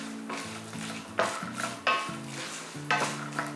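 Chana dal and cashew nuts fry in a pan for South Indian curry leaf rice, with a spoon scraping and stirring in quick strokes over a steady close sizzle.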